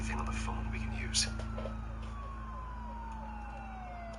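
Police car sirens wail in a Batman video game, several overlapping sirens sweeping slowly downward at a moderate distance over a low engine-like drone and faint game effects.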